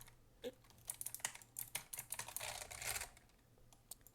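Fast clattering keystrokes on a computer keyboard, up close and faint, with irregular bursts of tapping that thicken into a dense run of presses and then tail off.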